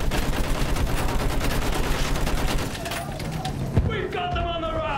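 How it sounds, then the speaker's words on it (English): Rapid machine gun fire in the Battlefield 1 video game sounds as a dense continuous rattle of shots amid battle noise, easing after a few seconds into scattered shots while voices shout. "Use that machine gun!"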